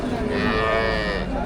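A Friesian dairy cow with six teeth, in her second calving, moos at a cattle market. It is one loud, sustained low moo that lasts the whole short moment, over a busy market background.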